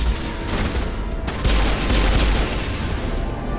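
Gunfire in the video game Mass Effect during a firefight, a dense, loud burst of rapid shots and booms crackling continuously with no pauses.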